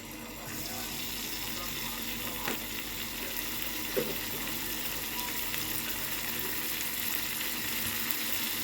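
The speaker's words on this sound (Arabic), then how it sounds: "جبت كده طاسه صغننه، حطيت فيها معلقه من السمنه، وهنزل عليها بمعلقه من الثوم" Spoonful of garlic frying in ghee in a small pan, a continuous soft sizzle with faint clicks and a utensil tap, no one speaking.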